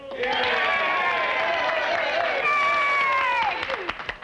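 Boxing-match crowd in a frontier setting cheers and shouts continuously, a loud dense roar of many voices with rising and falling whoops, fading into scattered claps and calls near the end.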